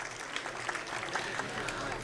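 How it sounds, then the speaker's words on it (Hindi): Audience at an Indian political rally claps, scattered and uneven handclaps rising in small bursts at moderate distance, with a voice speaking over the applause. "जोरदार तालियों के साथ स्वागत और अभिनंदन करें"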